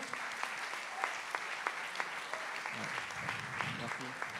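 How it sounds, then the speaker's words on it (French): Audience in a room applauding after a talk, a steady, moderately distant clatter of clapping with a few sharper claps standing out, and faint voices mixed in beneath it. "On peut applaudir Franck bien fort."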